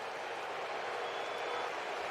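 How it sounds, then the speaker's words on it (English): Baseball stadium crowd with many Yankees fans at an away game against the Braves, a broad, steady roar of noise that swells slightly and holds throughout without clear voices on top. "Crowd getting loud."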